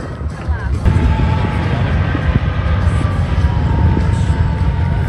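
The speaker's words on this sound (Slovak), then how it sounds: "Takže to boli lietadlá Viper DS-4." Viper DS-4 aircraft roar past at an air show at Jasná, a steady broad engine rumble holding loud throughout with crowd babble and voices underneath.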